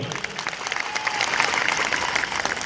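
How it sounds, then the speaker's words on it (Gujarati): A large crowd at a political rally in rural Gujarat claps loudly and densely for the whole stretch, a thick wash of applause with faint voices mixed in. "એકવાર જોરદાર તાળીઓ પાડી લો"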